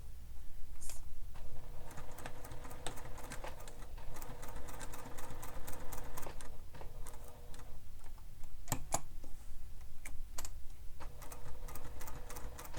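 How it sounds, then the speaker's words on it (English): A sewing machine stitches down a seam on a handmade bag, its fast mechanical needle chatter running in several long bursts separated by brief pauses, close and fairly quiet, with no voices. "So now we're going to stitch this down using the seam allowance given in the pattern"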